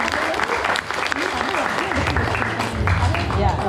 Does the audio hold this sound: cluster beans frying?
no